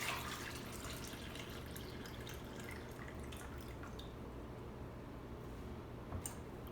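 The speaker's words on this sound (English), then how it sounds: "And then you can just take your coconut and pour it in." Coconut water poured straight from an opened coconut into a glass, a faint, steady trickle with small drips, heard close and quiet over a low background hum.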